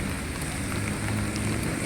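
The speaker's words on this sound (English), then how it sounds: "Pity about the rain." Rain falls at Ao Nang Beach in Krabi, Thailand, as a continuous, even hiss of drops close by, with no voices.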